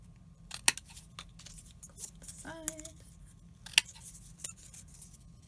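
Scissors snip the sides of a handmade album page, giving a few sharp, close metallic clicks spaced over several seconds against a quiet low hum, with no talking.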